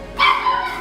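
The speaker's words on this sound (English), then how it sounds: "And of course that's my dog," A dog at home gives a single close, loud, high bark that trails off into a brief whine, heard alone without talk.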